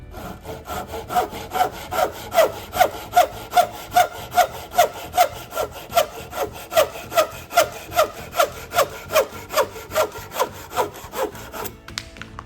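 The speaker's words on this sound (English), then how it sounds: "Now I'm going to cut." Hand saw cutting through a wooden board held in a saw guide, about two dozen even rasping back-and-forth strokes in a steady rhythm, close and loud, with no voices.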